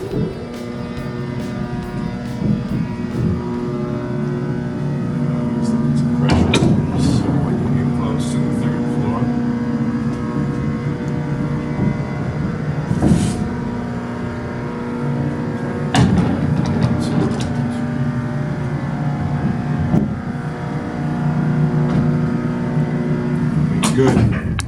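An antique Warsaw freight elevator runs downward, giving a steady low mechanical drone with periodic clanks and thumps, and a voice speaks at moments.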